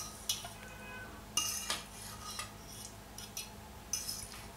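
Courgette being added to cooked wholegrain rice in a pot for masala courgette, a few scattered clinks and scrapes of a utensil against the pot over a quiet background, no speech.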